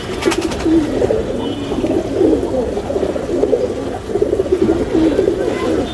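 Loft pigeons coo in a low, overlapping chorus, steady murmuring calls close by, with a brief rattling noise at the start and no clear speech.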